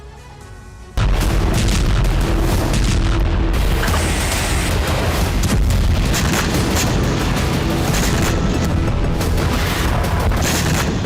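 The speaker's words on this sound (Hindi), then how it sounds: "यहां रूस के हमले में यूक्रेनी हथियार गोदाम नष्ट हो गया।" Explosions from a Russian strike on a Ukrainian weapons depot storing missiles and rockets, a sudden heavy blast followed by continuous loud rumbling booms and crackling, dense and overwhelming throughout.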